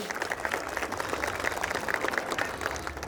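Audience applause at a dance academy's 16th annual day showcase, a steady dense patter of many hands clapping throughout, moderately loud with some crowd murmur underneath.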